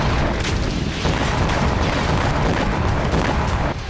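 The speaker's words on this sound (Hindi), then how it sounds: "एक तरफ यूक्रेन के आसमान में मिसाइलों की आवाज गूंज रही थी" Dense, continuous rumbling barrage of explosions and artillery fire in war footage from the Kursk border area, loud and sustained throughout with overlapping booms and no clear pauses.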